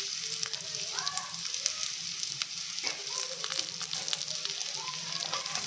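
Chopped raw banana and onion fry in a pan for a palya, giving a steady, dense sizzle with occasional soft stirring scrapes throughout, close and moderately loud.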